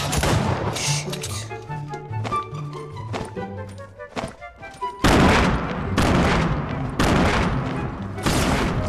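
A six-shooter revolver fires in a video game, single booming shots at irregular intervals, first spaced out among game sounds and then in a louder, denser run of blasts.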